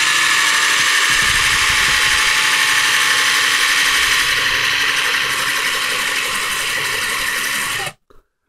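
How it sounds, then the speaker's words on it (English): A small power drill bores a hole into a plastic Gundam model leg joint, giving a steady, loud, close whir that runs unbroken for about eight seconds and then stops abruptly. "we're kind of drilling there"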